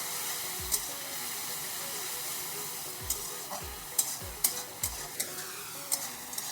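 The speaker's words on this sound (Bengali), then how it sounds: "দিয়ে দিচ্ছি আদা কাঁচা লঙ্কা বাটা। এগুলো একটু ভেজে নিই আগে।" Ginger and green chilli paste frying in a hot pan for a Bengali curry, a steady close sizzle with scattered stirring clicks and scrapes against the metal.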